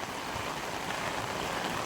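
Steady rain falling outdoors, a soft continuous hiss with no distinct drops, fairly faint and unbroken, no voices.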